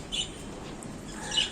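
Pet parrots eating vegetables and leafy greens give short rasping squawks, two brief calls at the start and end over a soft rustling background, no voices.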